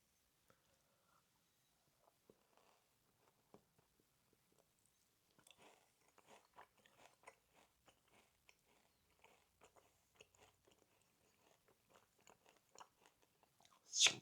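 Someone chews a round, chewy snack dusted with powder, producing soft, close, quiet mouth crunches and squishes in an irregular rhythm that grow busier toward the end.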